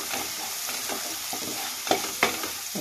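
Spices and masala frying in a pan with turmeric and cumin powder, a steady sizzle under rhythmic spatula scrapes, two sharper knocks near the end, close up with no speech.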